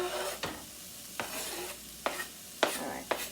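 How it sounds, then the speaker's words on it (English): A soft continuous sizzle of food frying in a pan, punctuated by several scraping stirs of a utensil. "you want to hear that sizzle"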